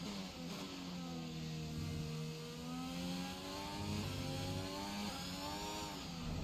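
F1 car engine in the F1 2021 racing game: a continuous high-revving whine that climbs and drops with gear changes, steady and fairly faint, with no talk over it.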